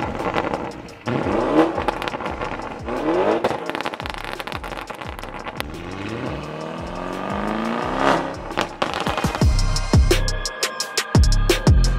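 Modified 2020 Audi RSQ8 with race pipes and a stage 2 tune revs repeatedly, sharp throttle blips rising and falling with crackles and pops between them, building to harder, louder revs near the end, close by with no talking.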